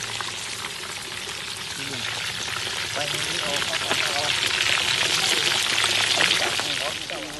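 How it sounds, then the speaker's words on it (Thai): Crispy pork belly frying in hot oil, a steady dense sizzle and bubbling that swells slightly louder toward the end, with no talking over it. "ขั้นตอนการทอดหมูกรอบ"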